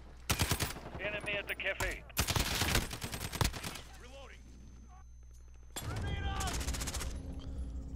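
Rapid automatic gunfire in the video game Call of Duty: Modern Warfare, loud bursts broken by short pauses, with a player talking between shots.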